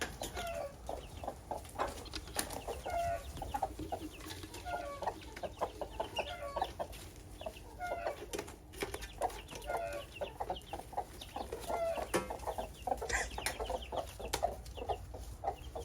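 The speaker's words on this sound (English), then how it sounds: "Chickens." Hens clucking steadily among their chicks, soft repeated clucks and small calls at moderate distance over a faint outdoor background hum.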